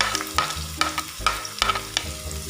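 Chopped onion sizzles in sunflower oil in a kadai while a spoon stirs and scrapes the pan in uneven bursts. The frying is close and clear, with no voices.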